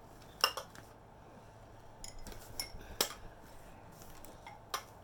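Ceramic cups and bowls from a thrift haul clink and knock together as they are handled, a handful of sharp close clinks spread irregularly over quiet room tone.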